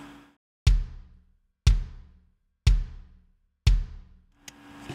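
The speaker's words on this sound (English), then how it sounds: "we're going to look at this kick drum I got pulled up here." Four deep, punchy kick drum hits spaced evenly with short decays and silence between, followed by a lighter hit and a brief tail at the end.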